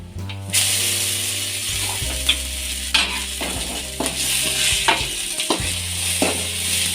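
Drumstick pods with coriander leaves frying over a low flame, a steady sizzle carrying sharp ratcheting scrapes of a spatula against the pan at regular intervals, with music tones running underneath and no talking.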